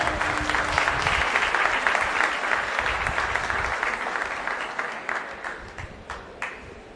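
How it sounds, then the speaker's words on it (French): Audience at a formal corporate speech event applauds warmly as a CEO is welcomed: a thick, sustained wash of clapping that gradually thins and softens by the close. "Applaudissez grandement."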